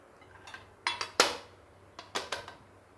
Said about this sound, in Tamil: இப்போ இதை வந்து ஒரு கத்தி எடுத்து வச்சு சூடாறின உடனே இதை நல்லா கட் பண்ணி விட்டுடுங்க